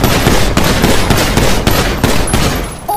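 Loud, close rapid gunshots in a low-budget GTA fan movie, a fast continuous burst of automatic fire with regular sharp cracks lasting about three seconds.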